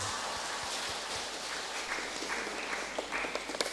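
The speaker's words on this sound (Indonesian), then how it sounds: "Tepuk tangan." Churchgoers clapping at an Easter Mass in a parish church, soft and somewhat distant, with scattered individual claps building into denser, louder applause toward the end.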